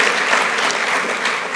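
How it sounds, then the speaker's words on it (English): Audience applause at a corporate fireside chat, a steady wash of many hands clapping at once that holds loud and even for the whole stretch. "Can I get a thumbs up or applause?"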